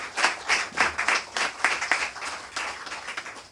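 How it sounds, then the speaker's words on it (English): Audience applause for poet Kgafela oa Magogodi at a South African poetry reading, a moderate scattering of claps with uneven bursts that rise and fall without settling into a dense roar. "very round of applause"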